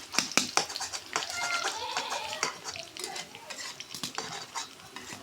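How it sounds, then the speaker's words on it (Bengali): Onions and chillies frying in oil in a pan, a faint sizzle broken by repeated sharp scrapes and clinks of a spoon stirring against the metal, close and intermittent. "দেখুন তেলানিটা আমার পেঁয়াজ মরিচটা ভাজা ভাজা করা হয়ে গেছে।"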